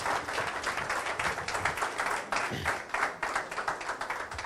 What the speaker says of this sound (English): I think he really deserves a bigger round of applause